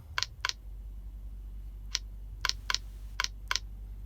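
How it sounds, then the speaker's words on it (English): Several sparse, light key clicks while typing remarks on a truck's in-cab tablet, a pair of quick taps followed by scattered single and double taps over a steady low hum, with no talking. "You can type in pre-trip."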